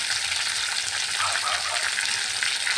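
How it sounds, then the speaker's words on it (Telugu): Curry leaves, onion, green chili and tomato sizzle loudly in hot oil in a frying pan while being stirred, a steady close crackle with no talking. "ఇప్పుడు కరివేపాకు, ఉల్లిగడ్డ, పచ్చిమిర్చి, టమాటా ఇవి వేసుకొని కలిపేసుకుందాం"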